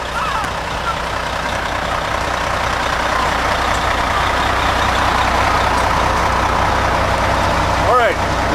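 A fire truck engine idles steadily in pump gear, a constant loud rumbling drone with a brief higher whine near the end; someone talks over it.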